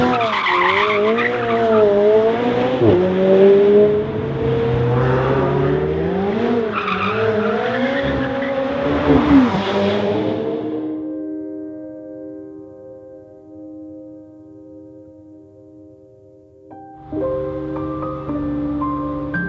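A McLaren 720S sports car on Swiss Alps roads, its engine note rising and falling loudly through gear changes for about ten seconds before dropping away to near quiet, then a steady tone returning near the end.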